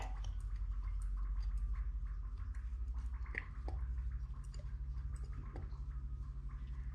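Gram flour for aloo pakora batter is stirred together with other ingredients, giving soft, wet squishing and sticky clicking sounds in a close, continuous rhythm with no talking.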